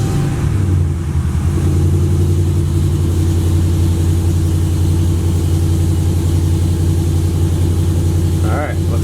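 A supercharged RAM truck engine runs loud and steady throughout with a low, rough rumble and slightly uneven pulsing, as if stumbling on low fuel pressure, while a voice talks over it.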